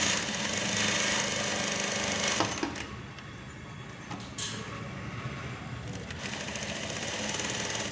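A sewing machine stitching a lined blouse, a steady loud motor whir running continuously with short pauses and restarts, close up and with no talk over it.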